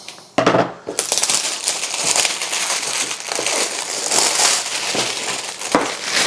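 Clear plastic wrapper being cut and torn open on a brand-new Commander NV500 night scope box, a continuous close crinkling and crackling of film for several seconds.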